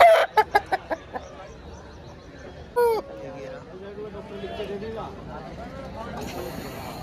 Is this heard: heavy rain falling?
no